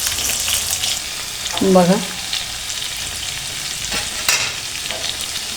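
Stuffed brinjal and masala fry in plenty of oil with a steady sizzle, stirred now and then with soft clinks and scrapes, while someone speaks briefly over the cooking.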